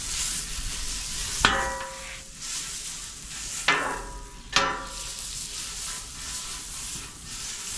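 Redfish pieces sizzle in butter and bacon grease in a hot pan, a steady frying hiss broken by a few sharp clanks and scrapes of a utensil against the metal.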